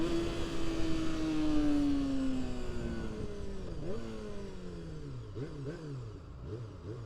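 A Honda CBR250RR motorcycle engine revs up and down, a high-pitched whine that slides lower and then blips in several quick rises and falls, moderately close with no talking.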